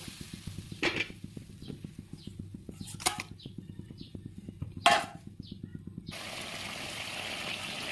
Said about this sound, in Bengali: জিরে বাটা দিয়ে জলটা দিয়ে দিলাম, অল্প সিদ্ধ হয়ে যা।